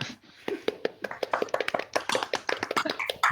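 Several people clapping over a Zoom call, a quick uneven patter of claps from a few sources, close and slightly compressed.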